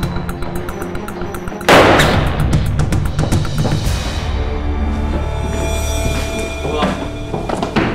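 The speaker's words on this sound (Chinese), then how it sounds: "大炮开枪！" Gunfire in a crime police TV drama: a sudden loud blast bursts out, followed by ringing, booming echoes and a tense sustained background rumble, with voices faint beneath.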